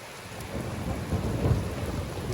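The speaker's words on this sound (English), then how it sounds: "Another storm." A deep roll of thunder rumbles up and swells over a steady hiss of falling rain, no voices.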